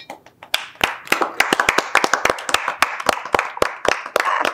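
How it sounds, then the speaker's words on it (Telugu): Rhythmic hand clapping in a home kitchen while avakaya mango pickle is made, a run of sharp, close claps at a quick, slightly uneven pace with no talking. "ఆవకాయ చప్పట్లు."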